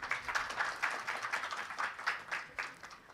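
A crowd applauding, steady rapid clapping from many hands with a lively, even texture throughout, fairly close and moderately loud.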